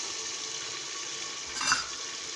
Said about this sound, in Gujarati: આપણે તેમાં ઝીણી સમારેલી ડુંગળી એડ કરીશું